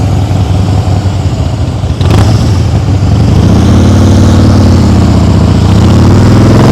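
A motorcycle engine revs loud and close under added throttle during slow-speed riding practice, a continuous throaty drone that swells and shifts in pitch, with no talking.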